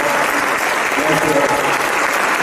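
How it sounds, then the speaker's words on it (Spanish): An audience at a film festival lecture in San Miguel de Allende applauds the actor Fernando Luján, a dense, steady wash of clapping that fills the whole stretch at close range, with some crowd voices mixed in. "me imagino que quisieran darle un aplauso a don Fernando por su tiempo"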